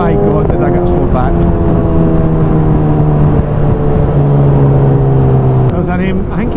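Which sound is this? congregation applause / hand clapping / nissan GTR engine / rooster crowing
nissan GTR engine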